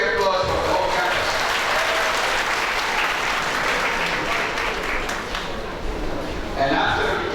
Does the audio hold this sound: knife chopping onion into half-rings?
no